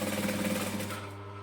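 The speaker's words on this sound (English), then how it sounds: "So we're going to just stitch down the center." A sewing machine stitches a straight seam down the center of a fabric piece at a 2.5 stitch length, a close, fast mechanical hum that runs for about a second before stopping.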